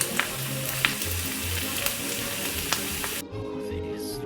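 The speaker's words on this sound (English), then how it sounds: "Oh, the beautiful, sizzling, hot steaks." Beef steaks sizzle on a hot grill with a steady, dense crackle and hiss, dotted with sharp pops and spits. There is no talk over it.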